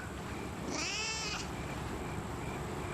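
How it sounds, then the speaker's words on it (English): A house cat gives a single clear meow lasting under a second, close by over a steady low room hum, with silence from the animal before and after. "This is Zoroaster, Mrs. Throckmorton's cat"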